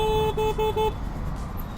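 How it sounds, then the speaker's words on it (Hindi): Four short, loud electronic toots from the horn of an Ather 450X electric scooter, sounded in quick even succession and then stopping, leaving low road rumble and background noise. "हॉर्न भी अच्छा है, it's pretty loud."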